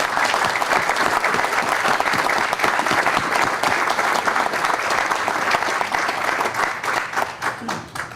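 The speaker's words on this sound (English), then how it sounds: "So now I ask for our guests to help me with a round of applause" Sustained audience applause at a fire department's 9/11 remembrance ceremony, loud and dense with steady clapping throughout, tapering off near the end.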